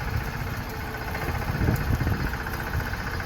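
A small tractor's engine runs with a continuous low rumble and vibration on a road, steady and moderately close, with no talk over it.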